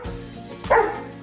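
A happy-go-lucky dog lets out a single close, loud bark after a brief low whimpery lead-in, with no voices.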